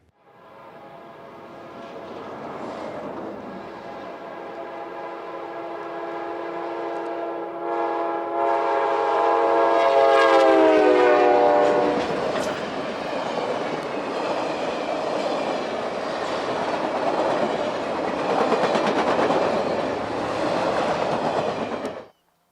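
KCS F unit diesel train racing past at track speed on the Beaumont Subdivision, horn sounding loudly in long chords as it nears, then a roaring rush of wheels and engines close by.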